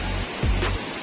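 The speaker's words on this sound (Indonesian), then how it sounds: "ini tinggi banget air terjunnya" Roar of the tall Coban Sewu / Tumpak Sewu waterfall in East Java heard from roughly 100 to 150 meters away, a loud steady wash of falling water with a brief low thump.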